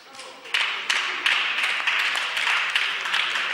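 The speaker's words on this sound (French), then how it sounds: "Il est déplorable de voir que cela mérite des applaudissements" Applause in a parliament chamber, starting after a quiet moment and then running as a dense, sustained burst of many hands clapping with uneven surges, with faint voices underneath.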